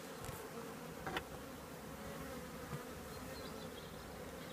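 Steady insect buzzing from a queenless colony of honeybees, a dense continuous drone with a few louder passes close by.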